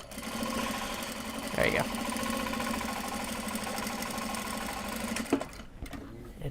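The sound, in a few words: sewing machine stitching Japanese fabric bag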